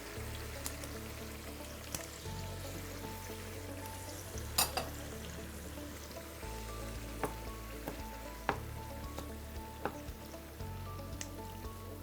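Tofu and vegetables simmering in a pan on lowered heat, a steady soft bubbling hiss with low hum and occasional faint clinks, continuous and fairly quiet with no talking.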